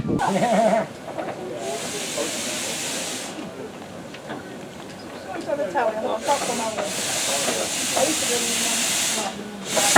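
A 0-4-0 saddle tank steam locomotive on the Foxfield Railway hisses in loud bursts of escaping steam, with quieter stretches between, and indistinct voices murmur nearby.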